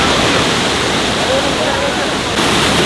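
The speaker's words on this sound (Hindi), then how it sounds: "सामने ही वाटरफॉल है।" Waterfall in Chinnar Wildlife Sanctuary, Kerala, a loud, steady roar of falling water with water dropping from a height, close by and continuous, with voices faintly mixed in.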